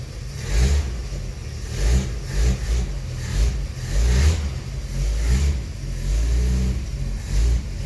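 A Plymouth Belvedere's engine revs in repeated throttle blips, each burst of roar rising and falling over a rough idle, loud and close throughout.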